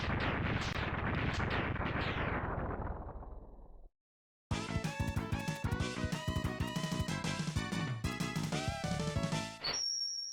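A long series of rumbling boss explosions in Mega Man X2 fades out, then after a brief pause chiptune-style game music with bright electronic tones plays.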